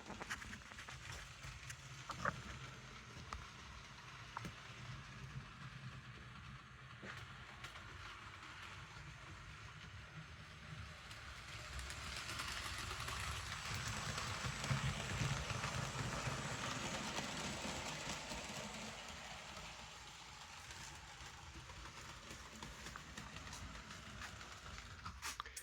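A Bachmann HO scale Thomas & Friends model train runs with a soft, continuous mechanical whir and rumble that swells in the middle as it passes closer, then recedes, fairly faint overall.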